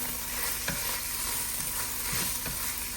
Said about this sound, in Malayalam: അത് കഴിഞ്ഞിട്ട് ഇത് നമുക്കൊന്ന് ജസ്റ്റ് സോട്ട് ചെയ്യാം